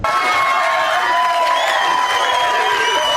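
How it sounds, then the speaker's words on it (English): A Jerry Springer studio audience cheers loudly and steadily, a dense crowd roar with shouts and whoops that holds at full volume without a break. "the crowd cheers for Jerry to be Steve"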